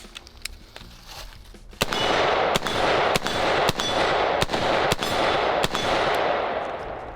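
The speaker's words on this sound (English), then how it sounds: "I'm gonna reload it now and then get my first shots on it" A 6.8 SPC rifle fires a string of about eight sharp, loud shots at roughly half-second to one-second intervals, each followed by ringing echo. Fainter clicks and handling noise come before the first shot.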